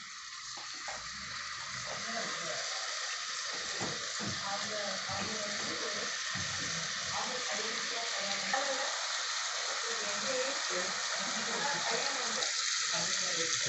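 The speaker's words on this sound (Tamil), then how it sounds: "இப்போ அந்த சிக்கனை போட்டு மாதிரி ஷாலோ ஃப்ரை பண்ணி எடுத்துக்கலாம்" Chicken pieces shallow fry in hot oil for butter chicken, a steady, bright sizzle that holds constant throughout, with faint speech murmuring underneath.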